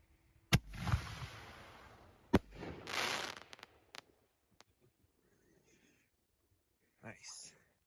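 A scatter bomb firework canister shell bursts with sharp loud bangs and a crackling, hissing spread, followed by scattered pops, near silence and a fainter late burst; voices murmur faintly.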